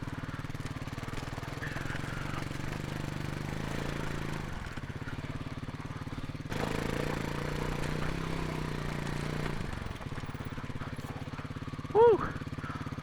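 Motorbike with bent handlebars ridden slowly on a volcano camping trip, a steady low engine drone under talk, briefly rising midway, with a short sharp squeak near the end.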